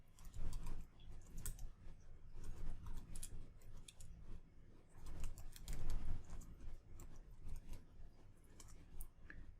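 Someone types a sudo command on a computer keyboard, giving a close, steady run of quick key clicks with short pauses between bursts. No one talks, and the typing carries on alone over faint room noise.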